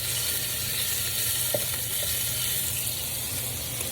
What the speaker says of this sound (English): now I'm stirring it around the pan just to loosen it up and get it to where it can get crispy, but also render the fat